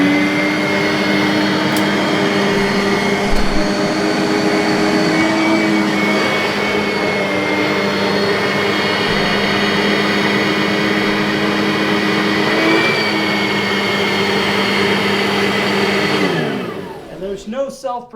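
A Simplicity Riccar R10 vacuum cleaner runs on carpet with a steady, loud motor drone and brush hum that holds evenly, then winds down and cuts off near the end.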